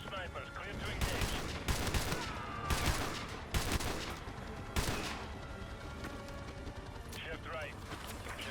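Sniper rifles firing in Call of Duty: Modern Warfare 2 Remastered, several loud, sharp reports spaced a second or two apart over a dense rumbling battlefield bed, with radio-style voices under the shots.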